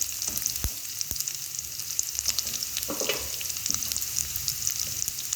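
Cut carrot pieces sizzle in a pan for sambar, a steady frying hiss broken by a few sharp clinks and stirring scrapes, close and moderately loud with no talk.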